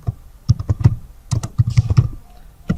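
Close, loud computer keyboard typing while a name is entered into an MS Word fee receipt, quick clusters of clacking keystrokes separated by short pauses, with no speech.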